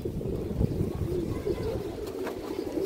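A large, healthy male pigeon, an Indian high-flyer, coos in low steady rolling tones close by, the cooing continuous for the whole stretch and blended with soft background murmur.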